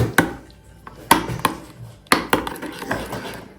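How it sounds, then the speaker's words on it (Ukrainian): A spoon knocking and scraping in a bowl as puree is mixed into baby porridge, several sharp clinks in uneven bursts with softer stirring between, close and clear. "додаю тепер пюре. незручно однією рукою. Ретельно перемішую."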